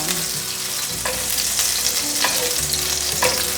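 Ginger slices sizzle in hot oil in a wok, with a steady dense frying hiss throughout and occasional scraping stirs from a spatula, close and loud with no voices.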